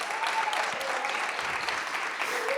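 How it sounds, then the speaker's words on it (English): Audience applause at a live event, a steady wash of many hands clapping that holds loud and continuous throughout without a break. "Please make some round of applause for this man."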